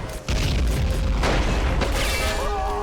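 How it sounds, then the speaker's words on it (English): Grenades exploding in Army Men of War: a deep booming burst followed by a sustained, dense rumble of blasts and debris, loud and close. "Oh, throwing some grenades over."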